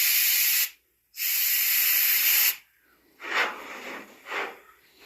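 Spray hisses onto a black phase coyote taxidermy mount: two loud, close bursts, the second longer, then two shorter, softer puffs after a pause.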